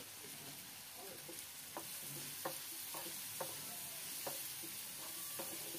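Button mushroom curry being stirred in a pan after garam masala and chicken masala go in: a faint, steady low sizzle broken by a few soft spoon scrapes and taps.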